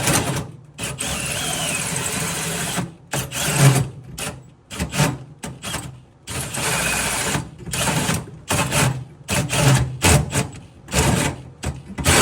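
A power drill bores a hole through G-body chassis metal for anti-roll bar and shock bracing, its motor whining in repeated bursts of a second or two separated by short pauses, loud and close, with no talk.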